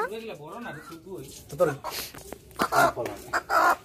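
A country chicken clucks in short, repeated bursts close by while people talk over it, just before it is slaughtered.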